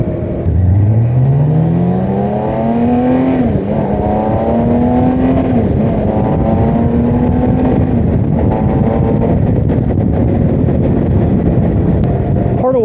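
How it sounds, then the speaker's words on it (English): A BMW K1600GTL motorcycle with stock exhaust climbs in pitch as it accelerates on a night ride, then holds a loud, humming intake tone while riding, with gear shifts dipping the note. "with the stock exhaust, it's just quiet enough that you can hear the intake sing"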